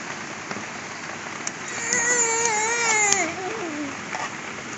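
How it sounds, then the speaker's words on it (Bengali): Steady rain patters on a surface throughout, with a child's wavering cry rising briefly over it in the middle. "বৃষ্টি এসে গেছে এবার চলে আসো"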